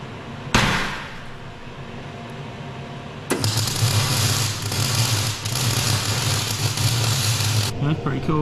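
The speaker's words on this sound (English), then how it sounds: "Weld two bits of metal together using electricity." Electric arc welding joins two pieces of metal, a loud steady crackling hiss that starts abruptly after a short burst and runs several seconds before cutting off.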